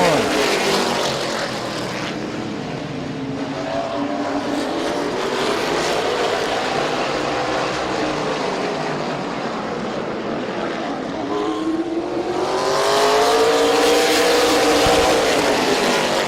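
Race cars roar around the oval at Midvale Speedway, their engines a loud continuous drone that swells and bends in pitch as the pack sweeps past and away.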